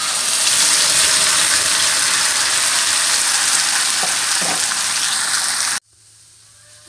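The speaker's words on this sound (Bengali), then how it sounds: "ধনেপাতাগুলো এবার তেলের ভিতরে দিয়ে দিচ্ছি।" Coriander leaves dropped into hot oil in a pan give a loud, steady close-up sizzle of frying that runs without break, then cuts off sharply near the end, leaving a quiet room.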